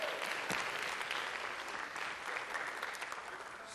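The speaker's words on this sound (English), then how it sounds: "Give Casey a big round of applause." Audience members at a lecture on ESP and probability give a steady, even round of applause, fairly distant and quiet, continuing without voices.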